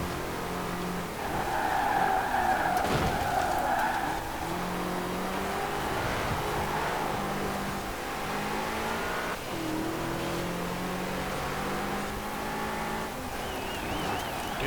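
Tires squeal and skid as a classic car understeers in a Forza Horizon 4 seasonal championship race, the screech rising over a steady engine drone for a few seconds before the motor keeps revving on alone.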